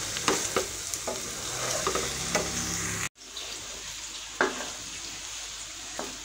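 Okra and eggs are gently stirred together in a frying pan, a steady sizzle running under a few soft scrapes and taps of the spoon, with a brief break midway.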